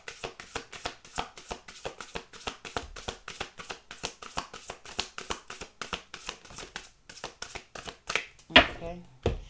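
Oracle cards are shuffled by hand in a steady run of crisp, rapid riffling taps lasting several seconds, close and fairly loud, ending with a brief rustle.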